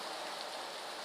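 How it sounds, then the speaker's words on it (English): Steady rain falls with a dense, even hiss of drops on surfaces, constant and moderately loud throughout with no voices. "Yes, it's starting to rain."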